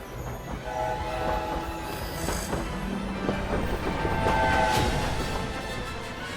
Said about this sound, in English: Into a train that leads to Hogwarts